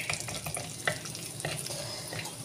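Ginger and garlic fry in a pan, giving a close, steady sizzle with quick stirring scrapes and crackles throughout the short stretch. No voices are heard.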